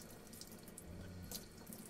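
Water from a hydrant pours steadily into a Berkey travel water filter, a faint continuous rushing and splashing flow with no voices.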